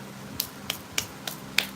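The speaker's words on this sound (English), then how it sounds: "those claps were very light." Five light, sharp claps spaced evenly about a third of a second apart, soft and fairly close over a quiet low background hum, with no talking.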